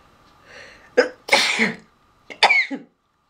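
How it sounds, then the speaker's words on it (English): A close sneeze with a sharp inhale before it, then a second burst a moment later; no talking. "oh I'm going to sneeze"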